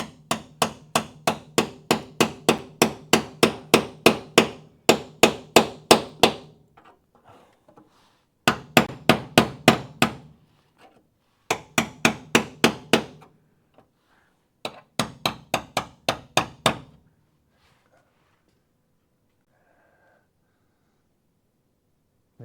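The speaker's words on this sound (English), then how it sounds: "We're using the ball peen. Very nice hammer." A ball peen hammer strikes car body sheet metal during a crew cab Charger restoration near spot welds. Loud, close, rapid runs of sharp metallic blows come in bursts separated by short pauses, with no talking.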